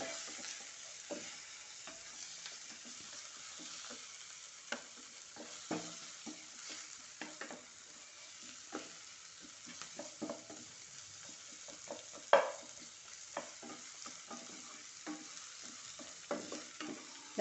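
Chopped tomato is sautéed with onion in a pan for a Palakkad-style potato masala curry, a gentle sizzle broken by repeated scraping and stirring knocks from a spoon, quiet and close with no talking.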